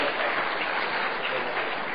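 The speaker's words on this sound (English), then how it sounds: "Yes, you all deserve a clap, absolutely." A large crowd at a papal pastoral visit in Australia gives sustained, even applause, a broad muffled wash of clapping heard at a distance.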